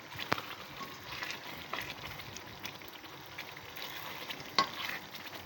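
Sooji halwa bubbling hard in a pan after water is added, a steady soft sizzle and spatter with a few sharper pops and splashes standing out.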